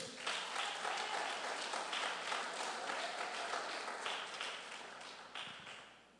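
A church congregation applauds steadily and loudly for several seconds during a sermon, a dense wash of clapping that stays fairly even before easing slightly toward the end.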